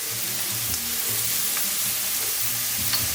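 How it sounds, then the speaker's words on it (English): Chopped vegetables sizzle steadily in a hot soup pot as a bean soup is started, a dense continuous frying hiss with faint stirring scrapes, close and alone. "So, you can see we got the sizzle going on here"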